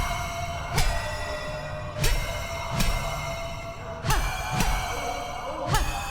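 Metal pipes struck in Hollow Knight: Silksong, sharp ringing clangs tapped out in an irregular Morse-like rhythm, each hit leaving a bright resonant tone that lingers.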